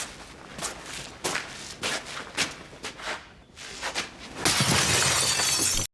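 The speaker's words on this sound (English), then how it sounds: "the sound of the window smashing sounds almost identical to how it sounds in the games" Window glass smashing in The Last of Us Season 2 Episode 6: a few footstep-like thuds and scuffs, then a loud, dense shattering crash that runs for over a second before cutting off.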